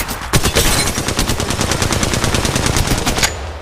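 Rapid automatic gunfire from the mobile battle royale game Apex Legends Mobile, a dense, loud burst of repeated shots running almost continuously for a few seconds with no voices.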